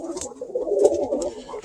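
A pigeon coos steadily in a breeder's loft, a close, soft, rolling coo with faint rustling and brief higher chirps around it.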